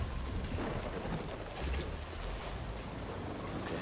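Heavy rain pours in a Death Stranding game scene, a dense continuous wash with low rumbling thunder rolling underneath throughout.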